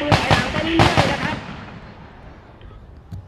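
Gunfire during a military training exercise with retreating enemy troops, a rapid burst of loud, sharp shots up close that fades into echoing reverberation, followed by a lone distant pop.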